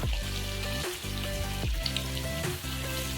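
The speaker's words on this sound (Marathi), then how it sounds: "मच्छी फ्राय करते मी।" Fish frying in a pan gives a steady close sizzle over a low background hum, with a few brief dips and crackling pops; no one speaks.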